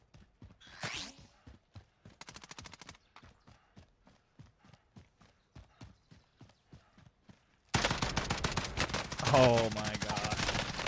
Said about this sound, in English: Bro, I'm getting shot like on the roof!